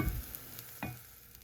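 Breadcrumbs for macaroni and cheese toast in a pan with a soft sizzle, broken by a couple of quiet stirring scrapes.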